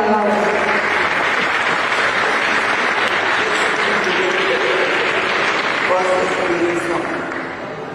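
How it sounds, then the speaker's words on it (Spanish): Audience applause fills a book fair event in Orizaba, a dense, sustained clapping from a crowd that stays loud throughout before tapering slightly at the end. "Un aplauso, por favor, a la Laura."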